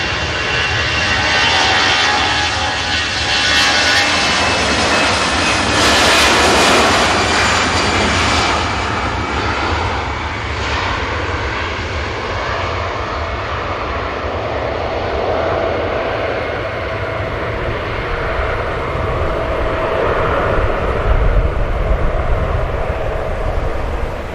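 An easyJet jet airliner departs Manchester Airport, its engines roaring loud and steady throughout with a broad rumbling hiss that swells slightly early on, heard alone without talk.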